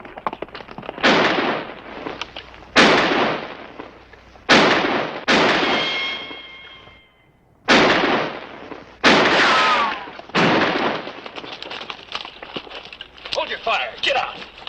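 Gunfire in a Western shootout: a series of loud, sharp shots spaced a second or two apart, some ringing with a ricochet whine, echoing over a quiet background with occasional voices.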